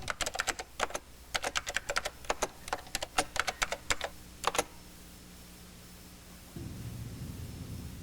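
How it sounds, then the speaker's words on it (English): Fingers typing on a computer keyboard for spreadsheet labels, bursts of crisp close keystrokes in quick irregular runs, then stopping, leaving a faint hum with a low steady drone joining near the end. "We'll type in our sales regions."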